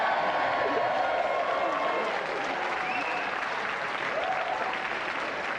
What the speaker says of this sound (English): So if we just like to give a round of applause again